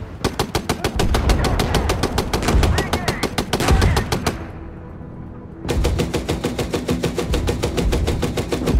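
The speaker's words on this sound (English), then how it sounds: "And let's get a 50 cal up." A .50 cal machine gun fires from a tank in Gunner HEAT PC, loud rapid rhythmic bursts of close heavy shots, pausing briefly mid-clip before another long burst resumes.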